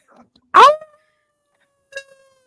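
A person imitates a wolf howl with a short rising vocal cry, then gives a second, fainter howl after a pause, close and otherwise quiet.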